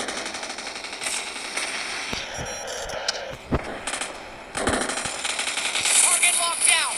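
Gunfire in the PUBG Mobile video game: bursts of automatic weapon fire and sharp single shots, rapid and punchy, mixed with game effects while players talk over the action.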